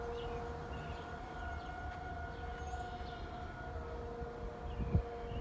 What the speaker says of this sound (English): You hear the air raid siren